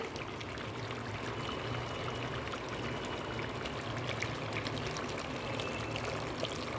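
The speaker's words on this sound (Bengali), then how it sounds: "গরম জলটা ঢেলে দিলাম।" Boiling water poured into a pot of mutton simmering for a Bengali kosha; a steady, continuous splashing pour runs close and fairly loud for several seconds with no talk.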